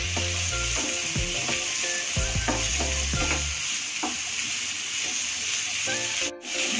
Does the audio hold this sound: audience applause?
no